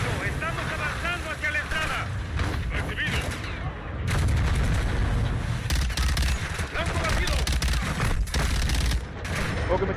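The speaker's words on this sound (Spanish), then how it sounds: "¿O que me está disparando?" Dense game gunfire from Call of Duty: Modern Warfare II, bursts and volleys rolling almost continuously with heavy low rumble, while a player shouts and talks over the shooting.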